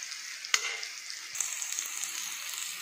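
Slices of raw banana fry quietly in a pan, a soft steady sizzle with a sharp utensil tap near the start and a few light scrapes as they are turned.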